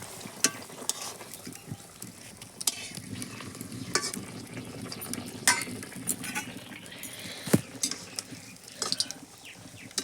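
Banana pitha frying in oil, a soft steady sizzle broken by sharp clinks and scrapes of a utensil against the pan.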